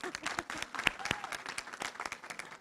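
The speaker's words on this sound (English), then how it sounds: "really big round of applause for Amiben." A small audience at a Diwali celebration gives a brief round of applause, the separate claps clearly audible, moderate in volume and fairly close, continuing steadily to the end.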